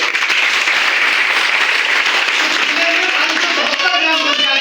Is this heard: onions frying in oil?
no